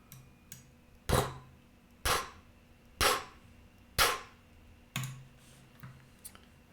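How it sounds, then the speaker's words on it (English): A shooting sound effect played back in Audacity: five sharp, evenly spaced gunshot blasts about a second apart, each with a short decaying tail, over faint background hum. "First, just some shooting sound effect."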